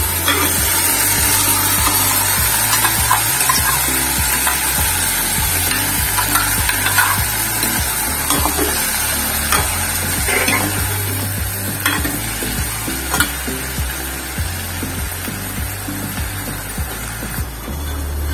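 Tomato and coconut fry and get stirred in a pan for a peanut curry (verkadalai kulambu), giving a loud, continuous sizzle with scraping stirs and occasional clicks throughout, with no talking.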